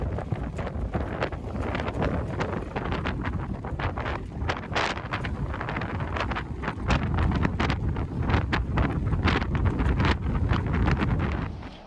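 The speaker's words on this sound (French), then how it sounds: "mais il y a du vent, il y a du bon vent." Strong wind buffets the microphone aboard a sailboat in the roadstead of Toulon bay, a loud continuous rushing roar with gusty swells and faint rattles, no voices.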